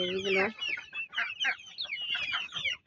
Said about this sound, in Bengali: আমার লাল মুরগির বেবিগুলো।